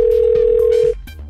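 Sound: telephone dial tone while calling a friend

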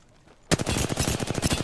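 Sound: gunfire in video game Apex Legends

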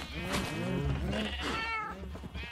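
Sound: cat meowing in Minecraft video game

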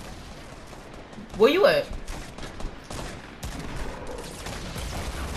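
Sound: gunfire in the video game Fortnite

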